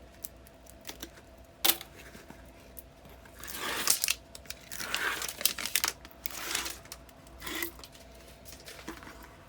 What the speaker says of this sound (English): Take the backing off of my score tape that I put on my spot on my hinge.